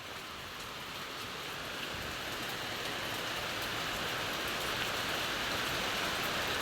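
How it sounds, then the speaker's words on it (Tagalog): Steady rain falling outdoors, a dense, even hiss of drops on surfaces that holds constant throughout, with no voices. "inabot na po ako ng ulan"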